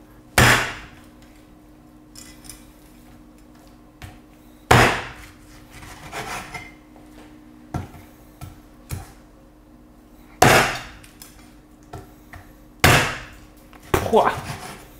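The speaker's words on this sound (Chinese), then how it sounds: "一点点把这鸡身子给剁" A cleaver chops a whole chicken into pieces on a wooden board for a chicken-and-mushroom stew. It lands in about seven sharp, separate blows spread irregularly over the stretch, each a close, loud thwack, with quieter knocks and handling noises between them.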